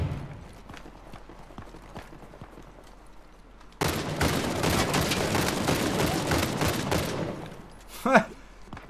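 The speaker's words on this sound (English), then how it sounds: "I just shot the full mag." Rapid pistol fire emptying a full magazine in Uncharted: The Lost Legacy multiplayer, a sudden dense burst of loud shots lasting about four seconds after quieter scattered gunfire, ending with a single sharp report.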